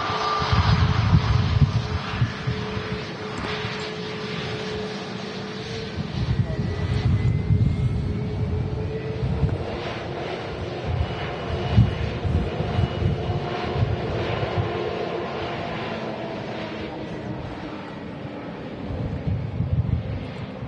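An ATR 72 turboprop taking off at Manchester Airport gives a droning propeller hum with a slowly rising tone, mixed with wind buffeting on the microphone and speech over the top.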